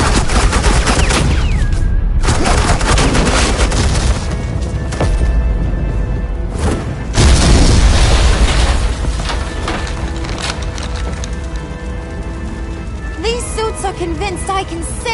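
Sustained bursts of suppressing gunfire with heavy explosions from Batman: The Enemy Within, loud and dense with rapid volleys, booming blasts and mechanical clatter, mixed with game music and effects.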